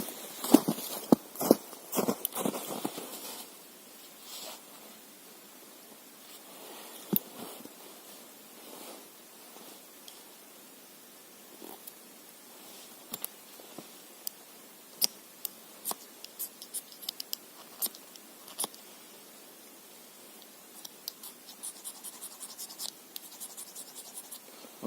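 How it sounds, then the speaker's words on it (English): Scraping the black coating off a firesteel rod with a knife, heard as light, quick scratchy strokes that come in bursts, faint and close, with quiet gaps between the rough passes. "It has the coating which I have to scrape down first."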